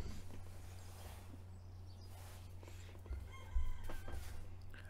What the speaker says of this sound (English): I can hear chickens next door